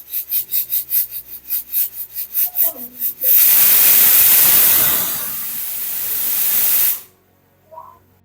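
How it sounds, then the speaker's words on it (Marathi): A pressure cooker on a low gas flame cooking dal, first chuffing in quick rhythmic puffs, then releasing a loud, steady steam whistle-hiss for several seconds before it stops abruptly, leaving near silence and a faint clink. "कुकरच्या शिट्ट्या आता 3 शिट्ट्या होऊ द्यायच्या आहे, पण लो फ्लेमवरती"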